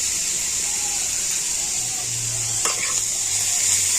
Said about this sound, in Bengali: এবারে সব কিছু খুব ভালো করে নাড়াচাড়া করে নেবো আর সবজিগুলোকে আমি একটু ভেজে নেব